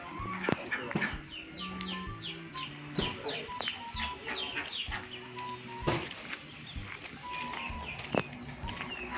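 Chickens cluck repeatedly nearby in an irregular flurry at a farm also keeping ducks and geese, with sharp knocks and farmyard clatter underneath.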